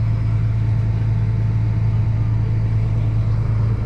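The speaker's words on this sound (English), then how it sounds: "Unloading this grain." Grain cart unloading grain into a truck during wheat harvest, with a loud, steady mechanical rumble and engine drone throughout, close to the microphone.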